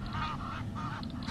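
A flock of territorial Egyptian geese honks in a series of harsh, overlapping calls at moderate distance, amid steady outdoor safari ambience at sunrise.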